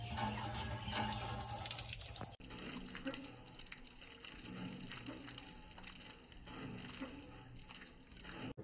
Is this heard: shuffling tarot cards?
no